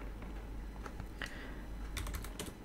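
Sparse keystrokes on a computer keyboard while Python code is being written: a handful of quiet, irregular clicks, some in quick bursts, over a steady low hum.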